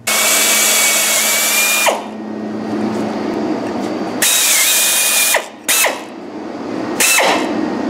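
Loud power drill boring a hole while mounting a battery disconnect switch, running in several long bursts with short pauses and spin-downs between them, close and dominant with no talking.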